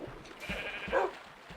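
A Minecraft sheep gives a single clear bleat in the middle of the game's quiet ambience, with faint soft footstep-like taps around it.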